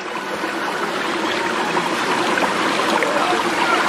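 Mountain valley stream in Gangwon-do flowing steadily, a continuous loud rush and babble of water close by, with no voices.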